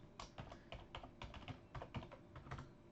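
An email address is typed on a computer keyboard in a quick, close run of light key clicks, somewhat irregular in rhythm and fairly quiet, with no talk.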